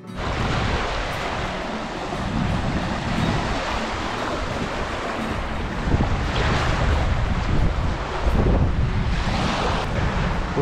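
Sea waves roll in steadily along a coastal spit on the Baltic, a dense, continuous surf wash with heavy wind rumble on the microphone, loud and close, with no voices.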